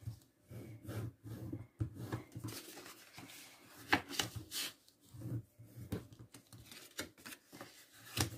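Creases are pressed into material for a small bag, making soft scraping and tapping strokes in quick irregular bursts, faint and close, with no voices.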